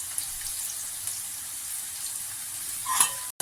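Ginger garlic paste and onions sautéing in a pan, with a steady soft sizzle and light stirring scrapes throughout, brief louder sizzle near the end before a cut.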